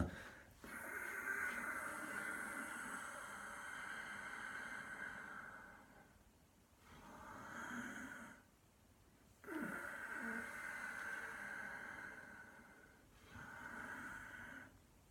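Slow, deep breaths from a chi kung breathing exercise, drawn in and let out in long, airy waves with pauses between them, soft and close, with no talking.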